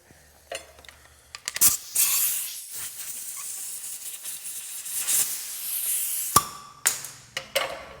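Compressed air blower in a metal workshop where a brass panel is being bead rolled and riveted, giving short, loud hissing blasts of air separated by quieter gaps, with a few sharp metallic clinks between bursts.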